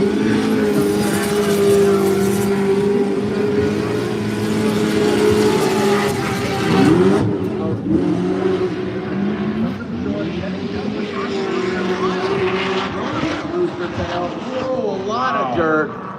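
Formula Drift ProSpec warm-up in Utah, with a Spider BMW among the drift cars: loud, sustained engine roar with revving swells and tire squeal as the cars slide through, under ongoing commentary voices.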